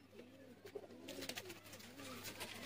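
Sialkoti pigeons cooing in repeated soft, low rolling calls against a faint background hum, fairly close.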